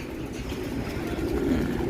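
Racing pigeons cooing softly around a loft and large house, low rounded coos over a steady murmur of birds, fairly close, with no talking.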